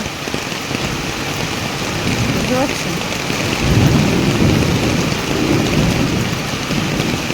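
The season's first heavy rain pours down steadily with thunder rumbling through it, the downpour swelling louder midway, while a voice speaks briefly over the storm.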